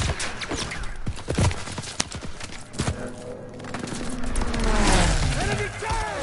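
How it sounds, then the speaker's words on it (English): Distant flak fire in the WW2 video game Call of Duty, heard as scattered booms and cracks within a dense battle soundscape of engines and rumble, with voices speaking over it. "That's flak fire in the distance."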